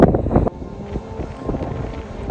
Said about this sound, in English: it's very hazy and it's windy, and the wind is cold this morning